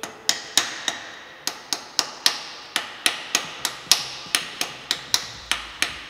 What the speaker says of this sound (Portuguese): agora umas porraditas.